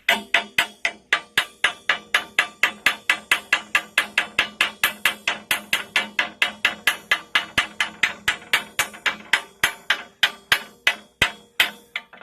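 A hammer chipping slag off flux-core welds on hot metal, a rapid, steady stream of bright metallic clinks and knocks, close and loud, with no talking.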